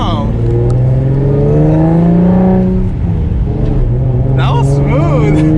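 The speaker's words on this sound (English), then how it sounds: "I can hear the turbo so much more right here on the passenger" A single turbo Nissan 350Z accelerates from inside the cabin, a loud engine drone climbing through revs with a turbo whine and whistle on top, while people talk over it.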